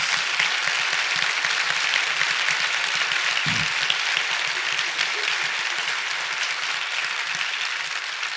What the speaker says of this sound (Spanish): Yo en este momento aplaudiría con muchos de ustedes.